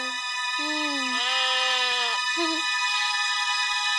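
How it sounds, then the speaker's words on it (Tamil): A baby goat bleats several times nearby, a clear wavering cry in a domestic outdoor scene from a Tamil television serial. "என்ன சீதா, ஆட்டுக்குட்டியை கொஞ்சிட்டு இருக்கிறியா? அது என்னோட ஆடுதான், எடுத்துக்கோ"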